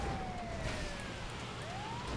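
A wailing ambulance siren sounds in GTA 5 during a truck parkour game, its tone sweeping slowly down then rising again over a constant, fairly loud wash of game noise.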